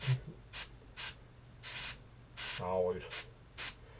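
An airbrush sprays paint onto a landscape painting in short rhythmic hissing bursts, about eight quick puffs in four seconds, with a brief voice partway through.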